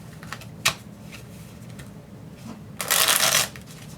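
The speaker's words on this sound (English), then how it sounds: "And I flipped over my cards, so now they're all mixed up, totally random all together." A deck of Starfinder Deck of Many Worlds cards is shuffled close by, a brief soft flutter after faint handling taps, quiet otherwise.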